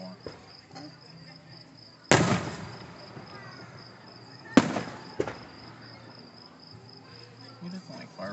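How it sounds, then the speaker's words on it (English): Outdoor fireworks display with a few sharp distant bangs and crackling bursts over a steady chorus of insects or crickets, quiet in between. "Who doesn't like fireworks, man?"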